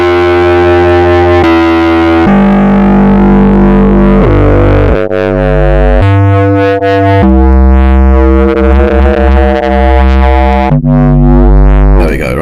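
Ableton Analog synthesizer plays a fat, buzzy sustained tone with filter key tracking, a series of loud held notes stepping up and down in pitch, the brightness shifting with each note, with no talking.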